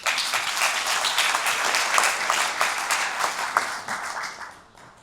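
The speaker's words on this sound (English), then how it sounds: "Give yourselves a round of applause." An audience at a Hall of Fame induction ceremony claps in dense, sustained applause that slowly fades out near the end.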